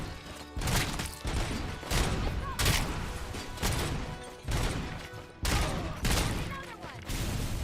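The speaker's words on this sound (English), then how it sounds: "Oh, there was a grenade." Explosions and heavy gunfire from a RoboCop video game come in repeated loud bursts roughly every second, each with a sharp blast and a rumbling tail, and a voice speaks briefly.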